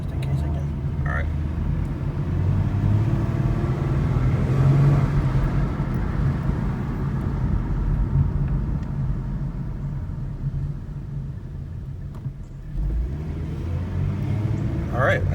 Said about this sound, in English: Now we just gotta drive slowly to cool down the brakes without coming to a complete stop.